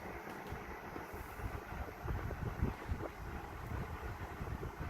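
A Midea U inverter 8,000 BTU window air conditioner runs at its loudest setting, producing a continuous broadband whooshing rumble with a steady low-frequency drone and no voices.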